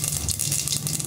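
Mustard seeds dropped into hot oil for manathakkali keerai kuzhambu, giving a brief, steady hiss with fine crackles at moderate volume and no talk.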